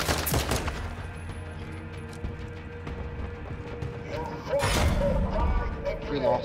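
Rapid gunfire in the video game Warzone 2.0, short bursts and mechanical clicks mixed with game noise while someone talks over it.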